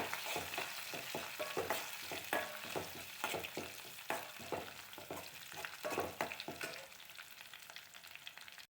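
Ginger, garlic, curry leaves and green chilies sizzle in oil for a gooseberry pickle, with a constant frying hiss broken by repeated stirring scrapes close by.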